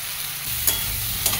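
Prawns fry and are stirred in hot oil, a steady close sizzle broken by two brief scraping stirs of a spatula against the pan.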